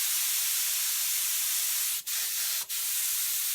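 A steady airbrush hiss sprays continuously at about 10 psi, close and fairly soft, with two brief interruptions where the air cuts off for a moment, applying leather and vinyl car seat repair color.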